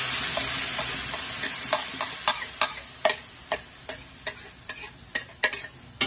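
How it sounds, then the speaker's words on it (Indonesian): Ground spice paste for chicken rendang is sautéed in a pan with a steady sizzle under a run of sharp, rhythmic scrapes and taps as it is stirred, close and moderately loud. "Langsung aja kita tumis bumbunya."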